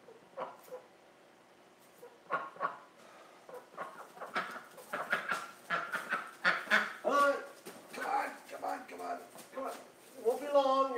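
Ducks in a hospital care setting honk and squabble in repeated short, loud, close bursts, growing busier toward the end, with a person talking among them.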